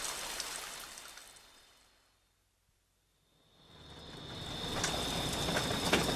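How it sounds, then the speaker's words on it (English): Steady heavy rain hisses as a dense wash, fading out to near silence midway and then swelling back to full strength. "At midday, it was still raining heavily."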